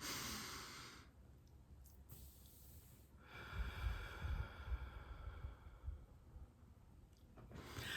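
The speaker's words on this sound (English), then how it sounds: "just inhale, exhale" Slow, deep breaths drawn in and let out during a guided relaxation exercise, a long airy inhale followed by a breathy exhale with soft snort-like nasal texture, close and fairly quiet with no talking.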